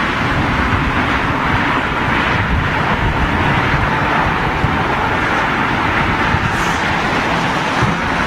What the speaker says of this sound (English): That's a Dreamliner and it's heading in the right direction